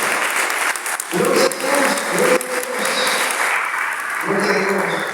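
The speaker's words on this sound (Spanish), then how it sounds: "¿Cuántos pueden darle un fuerte aplauso al Señor?" A church congregation applauds loudly and steadily throughout, with a voice speaking over the clapping at intervals.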